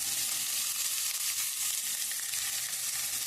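Onions sizzle loudly in hot oil with green chillies and salt, a dense, even frying hiss that stays continuous and close throughout.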